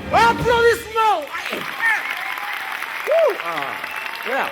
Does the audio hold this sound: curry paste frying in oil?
no